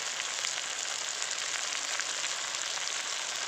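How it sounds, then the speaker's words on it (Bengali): Chicken sautéing with spices in a pan: a dense, even frying sizzle that holds steady throughout, continuous and close with no distinct strokes or talk. "এবার ভালো করে কষিয়ে নেব"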